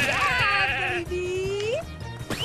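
A sheep in The Good Life video game bleats in a couple of wavering, nasal calls, close and fairly loud over a soft, repeating game background.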